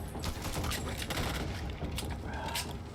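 Gunfire from the video game Back 4 Blood comes as a dense, loud burst of rapid shots and clattering mechanical noise, continuous over a few seconds.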